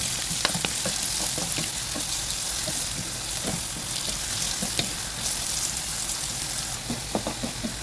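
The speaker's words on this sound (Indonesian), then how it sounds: "di sini tumis-tumis ya wortelnya tanpa bawang, wortel saja ya. Tumis sampai layu." Carrots sizzle and crackle steadily in hot oil in a wok, with occasional scraping as they are stirred; no one speaks.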